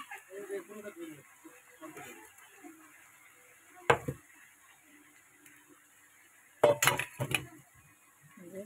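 A metal lid set down on a pan of cooking greens, giving a sharp clink and a cluster of clattering knocks, heard near and fairly quiet between stretches of someone talking.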